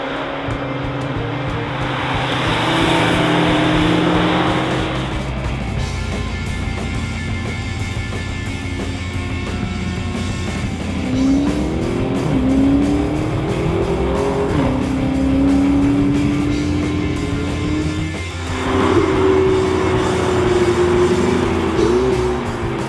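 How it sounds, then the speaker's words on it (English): A Lamborghini Huracan race car passes on a track, engine roaring through rising gear sweeps and repeated upshifts, loud and close amid other car noise, no speech. "That's the Huracan going by."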